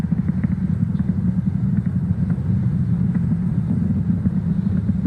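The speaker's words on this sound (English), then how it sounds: "So we're gonna throttle up those engines again on these side boosters" Falcon Heavy side booster rocket engines in flight after max Q, heard as a steady, dense low roar and rumble that continues without a break, fairly loud and with no voices over it.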